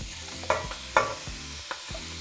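Chunks of pork shoulder and spare ribs sizzle in a pot over medium-high heat, a steady fry hiss broken by a few close, sharp clacks as the meat is stirred.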